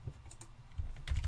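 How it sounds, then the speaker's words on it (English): Brief bursts of typing on a computer keyboard, soft scattered keystrokes that pick up into a quicker cluster near the end, quiet and close with no talk. "Now, obviously, I'm just typing this."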